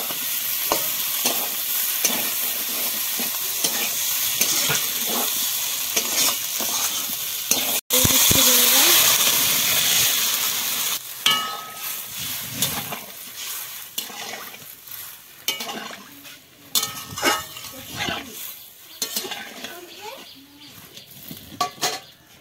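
Potatoes tip into a pan of well-fried spiced masala for an egg and potato curry, setting off a loud sizzle that fades into uneven stirring scrapes and bubbling.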